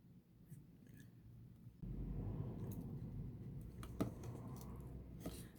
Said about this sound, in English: I'm going to cut the ends, secure them